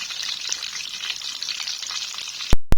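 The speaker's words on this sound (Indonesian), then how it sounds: "aku goreng sedikit-sedikit saja. Aku suka tahu, enak." Tofu frying in hot oil with salt and garlic gives a steady, loud, bright sizzle that goes on throughout, ending in two sharp clatters.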